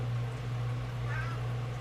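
An indoor cat gives a single soft, drawn-out meow midway, faint over a steady low hum.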